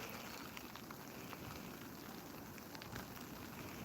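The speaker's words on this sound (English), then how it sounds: "Cold rain" Steady cold rain falling in New York City, a continuous dense hiss of drops on surfaces, faint and even throughout with no talking.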